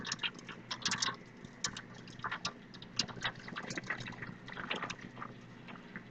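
Hot coffee jelly liquid poured into a pan, a quiet, uneven stream of splashing and trickling with small drips and gurgles, close up and without talk.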